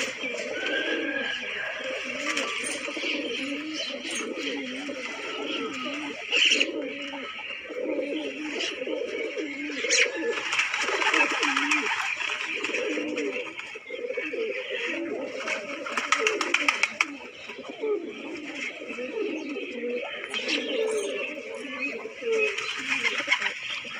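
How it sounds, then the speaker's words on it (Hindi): Pigeons in India coo in low, throaty repeated phrases close by, steady throughout, with scratchy rustling and background noise over them. "एकदम प्यारा बड़ा कबूतर है"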